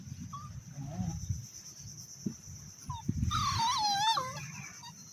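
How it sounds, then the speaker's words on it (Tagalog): Pet dogs whimper and give high, wavering yips, the loudest burst of whining coming in the second half, close by, with soft rustling and a person's voice underneath. "Ito yung aso natin mga kagala."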